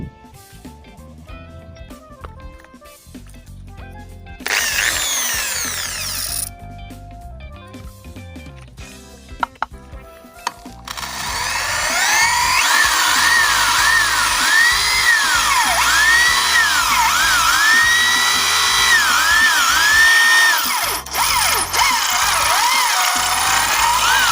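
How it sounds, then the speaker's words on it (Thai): A corded non-impact electric drill fitted with a 6 mm carbide multipurpose bit whirs in short bursts at first, then bores steadily with a loud continuous whine and shifting pitch as it cuts. "สว่านไม่กระแทกครับ ผมจะใช้เป็นดอก 6 มิลนนะครับท่านผู้ชม ดอกขนาด 6 มิลนนะครับ ไปทดสอบกันเลย"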